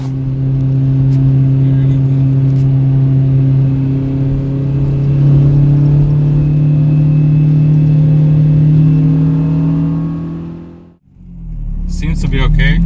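A Honda Civic EP3 engine with a muffler delete drones steadily with a deep, throaty exhaust note for several seconds while driving, then cuts off abruptly, followed by brief shuffling.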